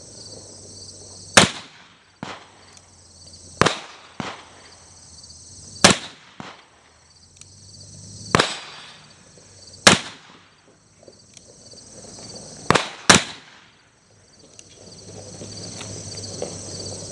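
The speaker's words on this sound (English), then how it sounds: "We got our Pietta new model Army loaded up. We'll give it a shot, see how she does." Pietta New Model Army black powder percussion revolver firing at an outdoor range, six sharp loud reports spaced a couple of seconds apart, each followed by a short echo, with insects chirping faintly in the background.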